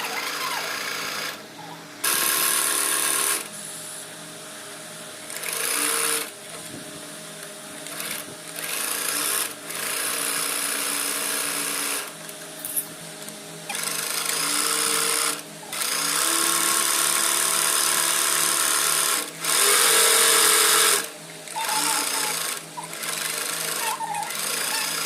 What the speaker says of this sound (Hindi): अब हम इसकी पूरी स्टिचिंग इसी तरीके से करेंगे।